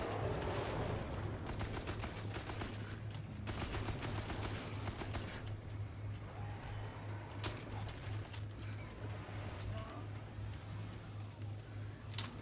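Tommy gun in Killing Floor 2 firing in rapid bursts, loud and close, with reload clicks and scattered shots fading into a busy background of game noise.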